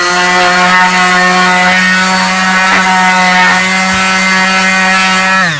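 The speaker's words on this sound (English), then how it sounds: "And then on top, you can use the sander" A power sander grinds rust off the old brake parts of a BMW E34 520i, its motor a steady, loud, close whine with a constant pitch and no pauses across the whole stretch.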